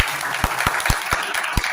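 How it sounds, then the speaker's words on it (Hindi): An audience at a Christmas program claps loudly, the dense applause marked by sharp individual claps near the microphone throughout. "तो जोरदार ताली बजाइए"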